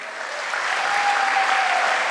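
Sustained applause from an audience filling a hall, dense and steady for about two seconds with no talk over it.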